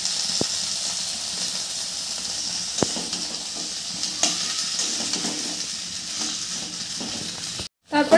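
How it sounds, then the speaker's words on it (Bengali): Dried red chilies and a ground cumin-coriander paste frying in a pan, a steady close sizzle with soft stirring clicks throughout, cut off briefly near the end by a short silence and a bump. "শুকনো লঙ্কা আর যে মশলাটা বাটলাম, জিরে ধনে, এটাও একটু ভেজে নেব।"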